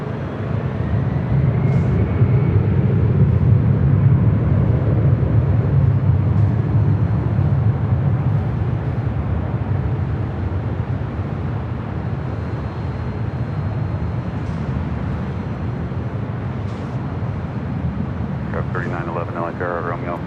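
A Delta airliner takes off from LAX runway 24 right, a broad, heavy jet roar that is strongest at first and slowly fades as the aircraft moves away, with a few faint chirps near the end.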